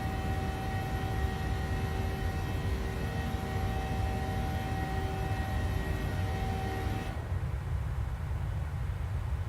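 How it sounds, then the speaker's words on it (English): Simulated PMDG 737 jet engines in Microsoft Flight Simulator give a steady, loud broadband roar with a sustained whine, cutting abruptly to a duller, quieter rumble near the end. "Oh, and the sound. Those engines are super cool."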